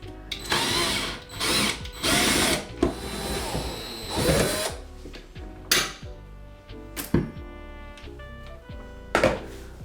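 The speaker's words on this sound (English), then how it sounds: "All that's really left is like unscrew a couple last things and then pack up my tools." A power drill whirs in short bursts as it unscrews the last fixtures in an emptied home, mixed with nearby clanks and thuds of tools and hardware being handled.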